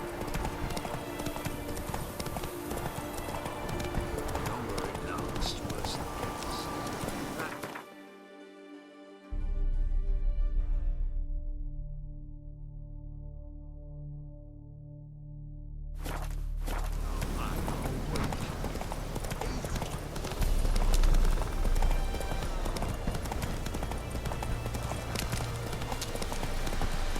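Hooves of Roach, the horse from the video game The Witcher 3, clip-clop in a steady rhythm at a gallop, loud and close, cutting out briefly midway before resuming under a dense layer of game sound.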